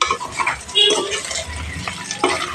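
Potato pieces being stirred in a frying pan over a medium gas flame, producing scraping and shuffling with a soft sizzle underneath, close and fairly loud, while a voice talks over it.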